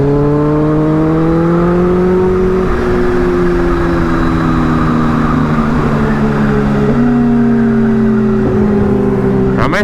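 Kawasaki ZX10R motorcycle engine accelerating hard through the gears, a loud, close, continuous high-pitched howl that rises in pitch, then drops at each shift before climbing again.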